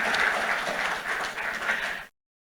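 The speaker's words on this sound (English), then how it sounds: "Please give Kay a big round of applause." Conference audience at a climate finance panel applauds, a steady dense patter of clapping at moderate level for about two seconds before it cuts to silence.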